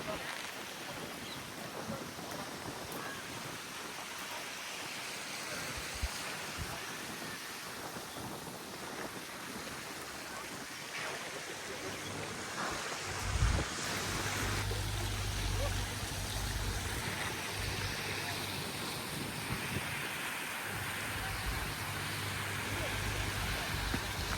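Strong wind buffets the microphone in the open among fountains at Brindavan Garden in Mysore under cloudy skies, a steady roar with louder gusts midway and low rumbling bursts.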